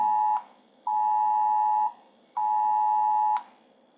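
A phone sounds three long, steady electronic beeps with short gaps between them, loud and close, with no voices.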